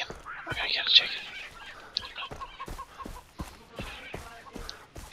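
A chicken in Far Cry 3 clucks repeatedly at close range, with a scatter of short sharp knocks and faint background noise, and no talk.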